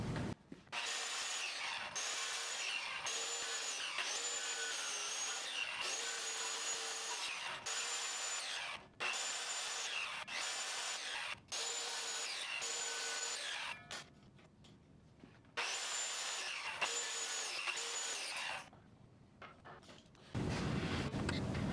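A power tool cutting wood shapes out of a clamped strip, with loud close buzzing runs of several seconds each, broken by brief pauses and a quieter stretch near the end.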